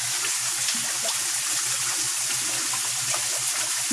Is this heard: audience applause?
no